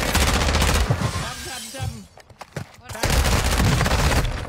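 Rapid bursts of video game gunfire in a first-person shooter, loud and close, cut by a short gap filled with scattered shots before the firing resumes, with players talking over it.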